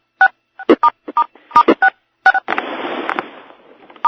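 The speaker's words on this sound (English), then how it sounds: "the sounds of those beeps, that's just how many people are on the call right now" Telephone keypad tones on a conference call, a quick irregular run of a dozen or so sharp dual-tone beeps, loud and close, followed by a burst of hissy line noise.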